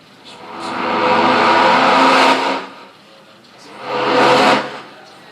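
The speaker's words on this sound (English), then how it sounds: "I just spin the record." A vinyl record spun by hand on a turntable and fed through a Make Noise verb reverb module makes two broad, loud washing swells, the first long and sustained, the second shorter, each fading into a reverberant tail.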